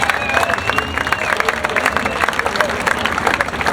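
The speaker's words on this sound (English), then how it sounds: "Let's give them a big round of applause as they climb out of their cars." Crowd at Toledo Speedway applauding the top three finishers of an open wheel sprint car race, a rough wash of clapping and cheering with sharp hand claps poking through and a faint voice in the background.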